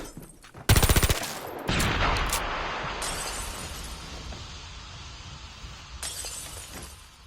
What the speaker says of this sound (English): Let's finish him with the pistol.